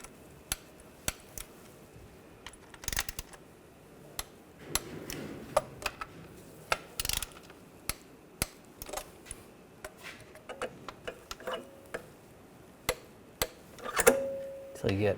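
Transmission pan bolts on a 2009-2010 BMW 535i xDrive are loosened by hand in turn, producing sparse, sharp metallic clicks and taps spread irregularly over a quiet background, close to the mic.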